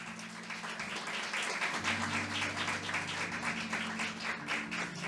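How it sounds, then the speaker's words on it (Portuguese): A church congregation applauds during a sermon, a steady patter of many hands clapping heard at a moderate distance, with a low sustained organ or keyboard tone beneath. "Pode aplaudir ao Senhor."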